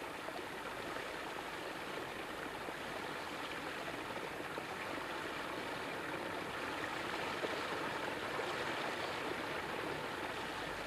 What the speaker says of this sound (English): he decided to raise its base to create a very charming, shallow stream